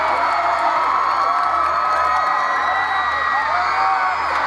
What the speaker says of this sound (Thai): ขอเสียงปรบมือหน่อยครับ